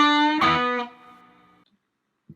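A distorted electric guitar plays part of an intro riff, with a held buzzing note followed by a heavier struck chord that rings and then fades out, played alone.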